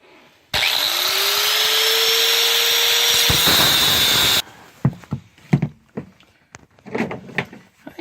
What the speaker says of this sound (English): You grind a little bit more.